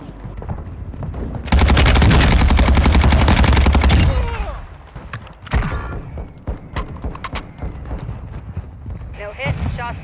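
Gunfire in Call of Duty Warzone 2.0, with a loud sustained automatic burst lasting a few seconds, then scattered single shots, thuds and game voice callouts.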